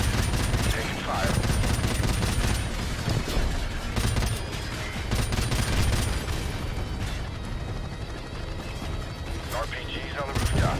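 Dense, continuous gunfire from Call of Duty: Modern Warfare Remastered rattles on without a break, mixing rapid automatic bursts with heavy, booming blasts. The battle noise is loud and close throughout, and voices come and go beneath it.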